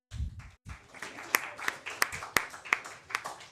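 An audience at a town mayoral candidate forum claps in a sparse, uneven burst of individual handclaps, moderately close, following a few brief spoken words at the start.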